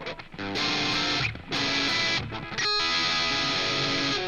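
An electric guitar played through an Angle Savage amp plugin gives loud, distorted chords in sustained bursts, with brief pauses between strums and no talking.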